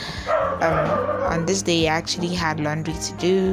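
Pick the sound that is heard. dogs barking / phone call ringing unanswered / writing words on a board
dogs barking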